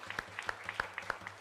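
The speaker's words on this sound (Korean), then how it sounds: "우리 박수 한번 해요" A small congregation at a Sunday church service claps in a brief, sparse, even rhythm. The claps are quiet and somewhat distant in the room.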